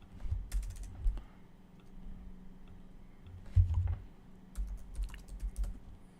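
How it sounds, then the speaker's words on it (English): Quiet, close keyboard typing comes in irregular bursts of soft clicks and taps, with short pauses between runs of keystrokes. "let's type this out"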